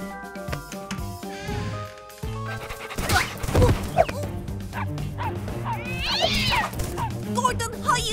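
Cartoon dog in a Baby Alive children's animation barks and yips excitedly in several loud bursts, mixed with whimpers, meows and music, while voices talk over it.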